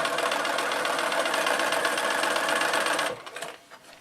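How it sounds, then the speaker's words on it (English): A sewing machine stitches two fabric triangles together in a fast, steady whirring run for about three seconds, then stops, leaving faint handling noises. "I like to sew these 2 triangles first."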